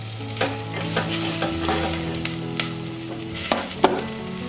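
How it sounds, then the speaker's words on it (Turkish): Butter sizzles and crackles in a hot pot while starting a soup, a steady frying hiss punctuated by scraping stirring clicks. "Tereyağımızı tenceremize alıyoruz."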